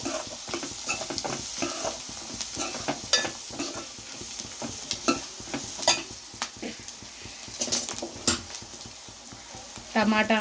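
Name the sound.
turmeric being stirred into frying food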